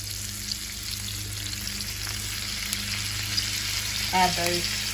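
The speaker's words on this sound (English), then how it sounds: "I've drained my green beans, and I'm just going to add those" Drained green beans frying with onion in bacon fat produce a continuous, close sizzle and spatter over a low kitchen hum, with a brief clatter of stirring toward the end.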